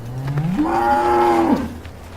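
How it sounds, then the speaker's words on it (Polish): A single long cow moo from the livestock pen in Farming Simulator 2015, rising into a sustained tonal call for about a second before dropping off, clear and close with no talk. "Tutaj od razu mamy krowy."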